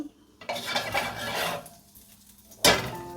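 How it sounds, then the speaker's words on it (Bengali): Panch phoron spices dropped into hot mustard oil, a burst of crackling sizzle with utensil clinks against the pan, then a sharp metallic scrape near the end, close and without voices. "আরও অল্প খানিকটা সর্ষের তেল তেল গরম হয়ে গিয়েছে দিয়ে দিব অল্প পাঁচ ফোড়ন"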